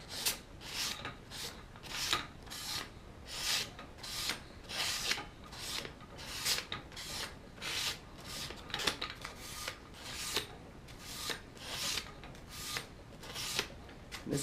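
A razor blade is sharpened on sandpaper with steady back-and-forth rasping strokes, a soft rhythmic scraping roughly twice per second, faint and close, with no voices.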